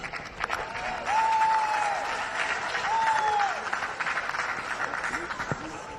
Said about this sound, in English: I want you to give another round of applause